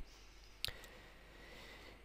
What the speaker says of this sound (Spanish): Le damos a un clic.